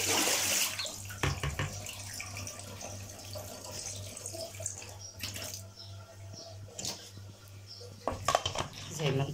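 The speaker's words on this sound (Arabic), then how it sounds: "اغسلي بقى واشطفي مرة واتنين وكل حاجة" Sprouted fenugreek seeds being washed and rinsed in water at a sink, with continuous splashing and running water, a few clinks of a bowl and someone talking over it.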